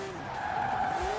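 A Subaru Impreza rally car in a racing video game skids with a sustained tire squeal that slides in pitch over a low engine rumble, loud and close, with no voices.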